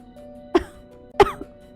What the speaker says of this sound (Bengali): ও একটা হালকা কাশির শব্দ শুনতে পেল